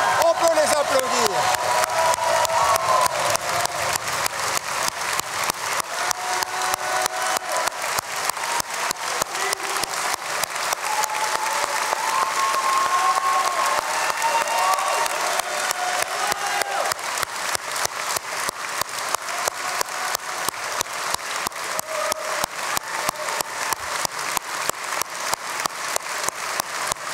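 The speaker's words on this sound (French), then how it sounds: "On peut les applaudir." A large crowd at a political campaign launch congress in Flagey, Brussels, claps for nearly half a minute, starting loud and easing into a steady, rhythmic clapping that lasts to the end.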